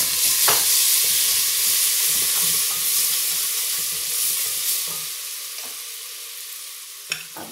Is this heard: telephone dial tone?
no